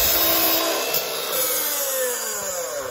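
A Hilti SM60-22 miter saw runs at full speed and bites through a wooden plank, giving a continuous whining, rasping cut with a falling pitch as the blade loads, close and loud with no talking.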